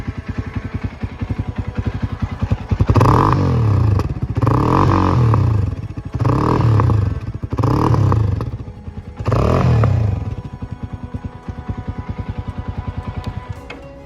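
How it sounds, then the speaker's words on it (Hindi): A Jawa 42 Bobber with a loud GT full-system exhaust revs hard in five distinct bursts between a rough, steady idle, close and alone without talk. "अब एक बार मैं इसे रैप करता हूँ, फिर आप एक बार इसका नोटिस करना कि कितना डिफरेंस आया है इसमें।"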